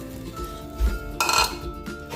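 A metal pot clatters and clinks as squash and coconut milk go into a stew of ginataang kalabasa, with a few sharp knocks and a louder burst of scraping clatter midway.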